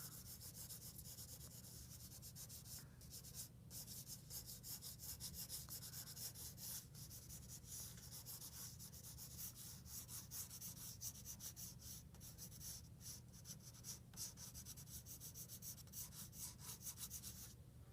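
A pencil shades roughly across paper for a face drawing, a close, faint, continuous scratchy rubbing made of quick back-and-forth strokes, with no talking.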